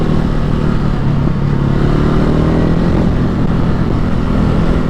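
A Ducati Hypermotard 950 SP motorcycle on a small road gives a loud, steady engine drone with a slowly shifting pitch, mixed with wind rush and no voices.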